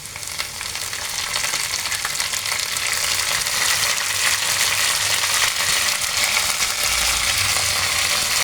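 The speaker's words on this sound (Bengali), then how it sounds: "এখন আমি শাকটা ভেজে নেব," Jute leaves fry in a pan with garlic, green chilli and onion, giving off a steady, loud, crackling sizzle that holds for several seconds with no talking.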